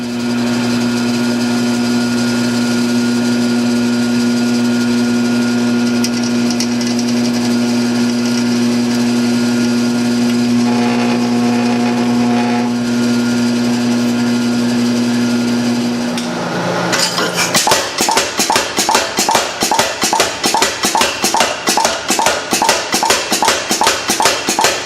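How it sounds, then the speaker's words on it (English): A drill runs with a steady whine, boring through the steel halves of blacksmith knee tongs before riveting, then gives way to a loud, rapid run of rhythmic mechanical knocking. "So let's drill these and rivet them together."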